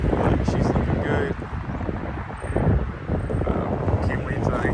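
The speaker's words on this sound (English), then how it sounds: "It's pretty windy out, but it's about to rain." Strong outdoor wind buffets the microphone in continuous loud gusts just before rain, with the roar rising and falling throughout.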